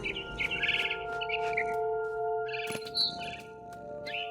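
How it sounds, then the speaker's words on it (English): Bright repeated barn swallow chirps from the video game What Remains of Edith Finch, over a steady electronic hum and tones, with a sharp click partway through; clear and close. "Then I heard chirping outside my window. It was a barn swallow going back to her nest."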